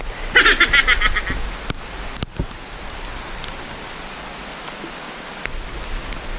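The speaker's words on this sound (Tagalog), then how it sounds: "Ulan na." Rain falls steadily at sea during a spearfishing outing on a dark day, a constant wash of hiss with a few splashy bursts, fairly close and even.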